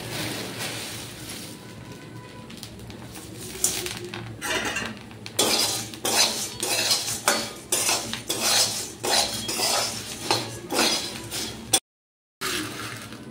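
Puffed rice, fried chickpeas and sev being stirred and tossed in a metal pan, with repeated scraping and clinking of a spatula against the pan in bursts, close and fairly loud.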